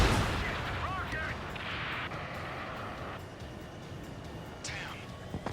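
Missiles and gunfire in the air-combat game Ace Combat 7, a dense continuous barrage of blasts and rumbling explosions with repeated whooshing launches, under speech.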